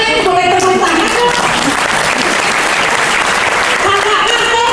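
A loud, dense burst of audience applause at a business presentation in Bandung fills the room continuously, with voices audible beneath the clapping.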